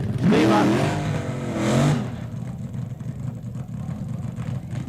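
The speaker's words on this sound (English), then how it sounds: "I can't compete with that burnout, Steve." A 1971 NHRA Winternationals drag racing funny car doing a burnout, with a loud engine roar rising and falling twice before settling into a lower rumble while a commentator talks over it.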